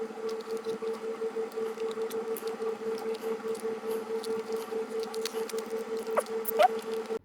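Packaging for a Mini GT Skeleton Rexy model car is handled and opened, giving soft, steady rustling and pattering with a few sharper clicks near the end, close and fairly quiet over a low hum.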